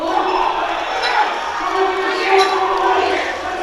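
A large crowd at a powerlifting meet cheers and shouts in a steady, loud roar that swells and holds throughout.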